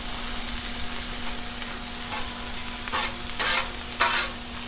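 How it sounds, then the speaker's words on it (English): Vegetables sizzle on a Blackstone griddle in a steady frying hiss, broken near the end by a few louder bursts as they are tossed and scraped across the hot surface. "season up the veggies as they cook. Give them a little toss"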